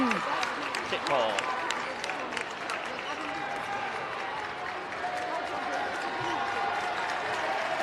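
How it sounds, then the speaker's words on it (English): A high school basketball crowd in a gym cheers and claps steadily, with a dense, loud roar throughout and a commentator talking over it. "the crowd's getting into it a little bit"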